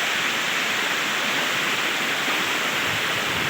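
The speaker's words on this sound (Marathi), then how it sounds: "बघा ना कसं मस्त जुळू जुळू जुळू जुळू पाणी चाललोय" Constant rushing of a shallow farm stream, dense and steady throughout, close by with no other sounds standing out.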